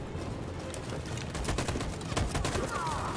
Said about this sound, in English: That machine gun is taking down everything that moves!